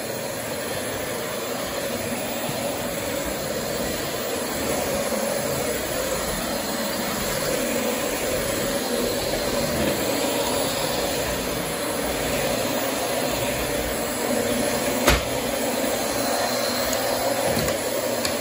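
A Dyson DC25 bagless upright vacuum cleaner runs with a steady, loud whooshing whine, close and unbroken for the whole stretch, with a single sharp click near the end.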